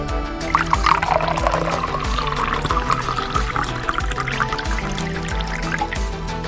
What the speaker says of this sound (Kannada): ಈಗ ಕುದೀತಿರೋ ನೀರನ್ನ ಈ ಫಿಲ್ಟರ್ಗೆ ಹಾಕೋತಿದ್ದೀನಿ